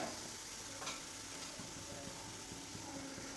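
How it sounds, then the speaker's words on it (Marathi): Masala sizzles softly in oil in a pan while being fried until the oil separates, for paneer tikka masala; a faint, steady frying hiss with light stirring scrapes, no talk. "तेल सुटेपर्यंत आपल्याला तळून घ्यायचं आहे"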